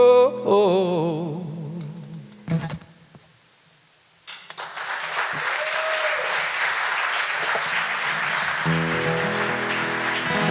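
Applause from a coffeehouse audience after a song, starting after a sung phrase and a brief pause, then steady, sustained clapping from a small crowd that fills the room. A voice speaks over it toward the end.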